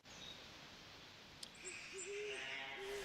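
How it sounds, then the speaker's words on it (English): An owl hoots faintly in the distance in the hunting game theHunter Classic, a few soft low calls rising over a quiet outdoor ambience, with no talking. "You hear the owl?"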